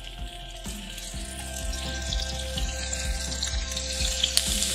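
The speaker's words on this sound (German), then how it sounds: "Wenn das Öl heiß ist, dann gebe ich die Zucchini-Ringe rein." Oil sizzles and crackles steadily in a pan, with a few soft thuds as zucchini rings drop in near the start; no talking.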